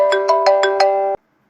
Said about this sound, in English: Then from here, select the iPhone ringtone.